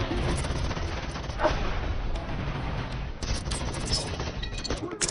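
Battle-scene gunfire from an action film: a dense, continuous roar of shots and blasts runs through the whole clip, with a few sharper bursts standing out.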